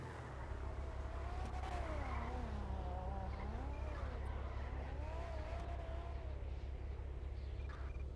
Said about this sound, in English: Bunch of people drifting